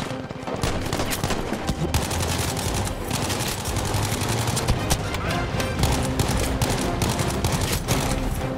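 Rapid pistol fire in Battlefield V, a dense string of sharp shots cracking in quick succession over a continuous din of combat noise, loud and close throughout.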